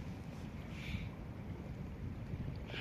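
Outdoors, wind buffets the microphone in a steady, loud, low rumbling roar that runs through the whole stretch without letup and with no voice.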